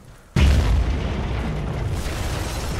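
Rocket explosion in the video game Battlefield: Bad Company 2: after near silence comes one sudden, loud boom, followed by a long, rumbling debris tail that stays loud to the end.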